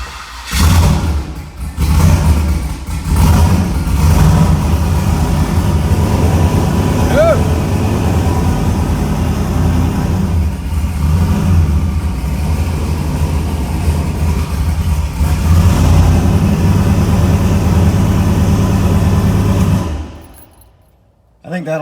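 A boosted no-prep drag race car engine rumbles loudly after its first startup following an all-night rebuild, running rough and steady with occasional revs before cutting off near the end, while people talk over it.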